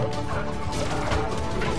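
Chickens clucking in the PS4 game Lego Super Aventures, a dense, continuous jumble of fowl calls and gobbling-like chatter with crashing game sounds, steady and fairly loud with no talk.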